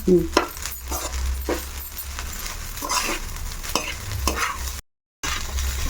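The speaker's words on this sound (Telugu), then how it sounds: "మనం ఒక 2 మినిట్స్ అలాగా ఫ్రై చేసుకోవాలమ్మా, ఇలాగా కలుపుకుంటూను" Carrot rice is stirred and fried in a pan, with a spoon scraping and knocking in repeated strokes over a soft, constant sizzle, close and fairly loud, with a brief dropout near the end.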